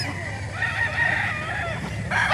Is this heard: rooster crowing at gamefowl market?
yes